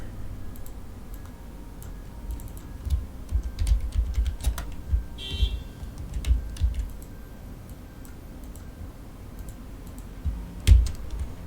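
Fingers type on a computer keyboard with sticky keys, giving irregular bursts of close, dry clicks and taps, some hit harder than others, with a few brief pauses and one heavy thump near the end; nobody speaks.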